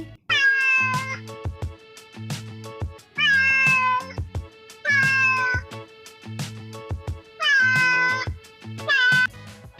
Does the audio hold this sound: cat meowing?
yes